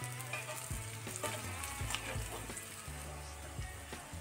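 Masala for egg bhurji sizzles and crackles steadily in a pan over a low-medium flame, with occasional stirring scrapes at a moderate level throughout.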